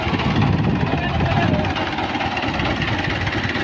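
A 640 model tractor engine runs beside a large thresher whose belts are slipping, giving a steady, close, rough rumble with no clear change across the moment.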